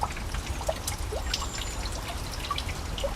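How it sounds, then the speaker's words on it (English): Water trickles and drips as it drains through a wooded area, a steady soft gurgle with small splashes heard at a little distance, no voices. "it's water sort of draining through this wooded area here"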